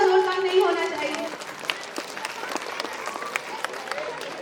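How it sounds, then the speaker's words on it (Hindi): An audience at a talent show applauds, a busy crackle of clapping that follows a voice at the start and carries on steadily to the end. "आपकी तालियों का जोर कम नहीं होना चाहिए।"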